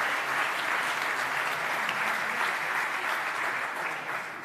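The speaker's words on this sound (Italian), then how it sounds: "a quale facciamo un grande applauso." An audience gives sustained applause at an Umbrian football awards ceremony honouring fair play, with a dense, steady wash of clapping from many hands and no voices.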